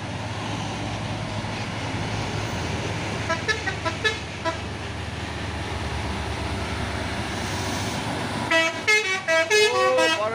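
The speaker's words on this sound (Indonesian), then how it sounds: "Ada telolet." A telolet musical horn sounds from a box truck on a busy road, a quick run of bright tooting notes near the end after fainter toots earlier, over constant traffic and engine rumble.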